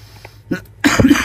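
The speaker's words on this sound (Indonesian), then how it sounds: "Sorry batuk." A single person coughs abruptly in a quiet indoor setting, one short soft huff followed by a louder, harsher burst lasting a fraction of a second, close to the microphone.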